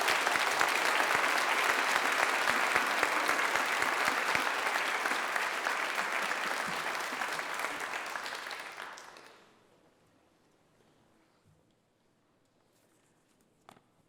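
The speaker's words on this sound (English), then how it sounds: "Big round of applause for our presenter, please." Applause from a graduation audience for a presenter, loud and sustained clapping that fades out over a few seconds into near silence.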